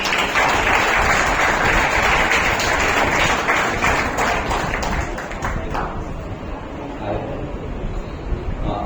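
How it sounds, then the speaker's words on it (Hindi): Audience at an award ceremony applauding a presenter, dense loud clapping from many hands that thins out and fades toward the end into scattered claps and room noise. "उनके लिए जोरदार तालियां"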